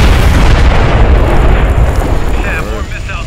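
Missile explosions in the Splinter Cell Blacklist game make a continuous loud rumbling roar that slowly tails off, with someone talking briefly near the end.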